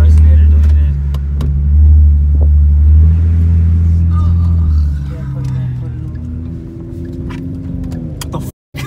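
A Ford Mustang exhaust with the muffler deleted rumbles low and deep at idle, then revs slightly, with people talking over it nearby.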